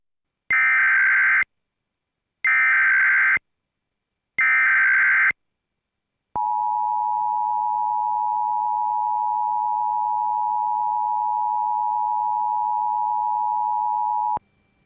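An Emergency Alert System attention sequence: three loud, identical data bursts with gaps between them, followed by a long, steady tone held for about eight seconds, then silence, with no voice present.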